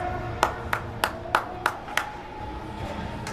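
Hockey crowd clapping in unison for the Warriors against Arvada, six sharp rhythmic claps in a steady beat, then fading into a background arena murmur.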